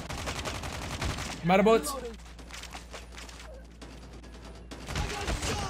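Gunfire in a Call of Duty match, a rapid burst of shots mixed with game effects and occasional speech from a player over the action.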